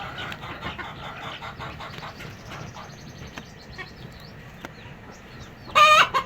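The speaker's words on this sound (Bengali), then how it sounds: "মুরগিটা ডিম পাড়ার জন্য চেষ্টা করতেছে।" A hen straining to lay an egg gives low clucks and murmurs amid farmyard background noise, then a loud, harsh burst of calling near the end, close to the listener.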